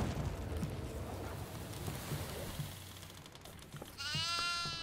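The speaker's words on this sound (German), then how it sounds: "Komm her, du Ziege, du." A goat in the horror game Devour, set at a farmhouse, gives a harmonic bleat near the end, loud and close, after a stretch of dark, rumbling game ambience.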